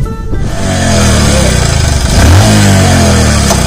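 A motorcycle engine starts and revs loudly close by, rising and falling in pitch over a few seconds.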